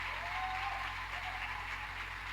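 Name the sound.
congregation applauding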